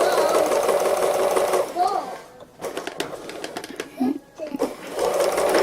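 A sewing machine doing free motion embroidery on a quilted wall hanging, a close, steady mechanical whir that pauses midway while a voice speaks and the cooing of a dove is heard, then resumes.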